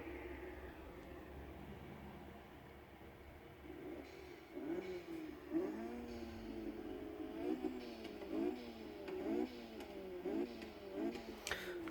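A car's engine in Forza Horizon 3 revs repeatedly, several rising and falling sweeps after a quieter idle, moderately loud and close with no talking.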